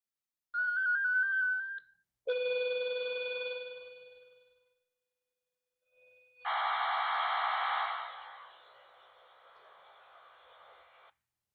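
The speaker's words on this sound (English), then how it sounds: "Kind of sounds like an old school fax machine" A sequence of electronic data tones from a Baofeng radio running ANDFLMSG digital mode: a warbling beep, a sustained multi-pitch tone that fades, a pause, then a harsh hissing handshake burst.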